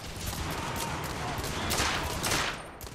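Sustained gunfire in The Order 1886 video game, a dense, loud stretch of overlapping shots and volleys with sharp bursts standing out near the end.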